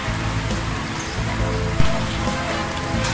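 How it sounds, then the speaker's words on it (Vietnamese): Morning rain falls steadily on surfaces outdoors, a dense, loud, continuous patter with a single sharper splash or knock partway through and no voices. "Trời sáng hôm nay mưa các bạn."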